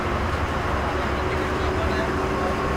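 A passenger bus setting off on a road journey toward Panvel, heard from inside as a steady, loud engine and road rumble that stays even throughout.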